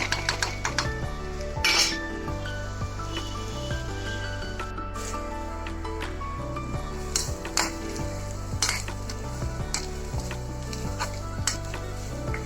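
Onions frying in oil in a pan, constant sizzle with frequent metal spoon scrapes and clinks against the pan, close and fairly loud, no talk.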